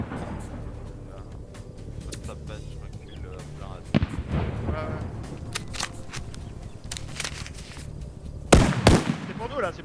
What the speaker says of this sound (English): We hear the AA gun firing.